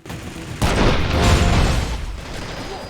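Gunfire in the video game Urban Chaos, with a sharp burst followed by a sustained, loud barrage of rapid shots and booms that carries on for about two seconds before easing off.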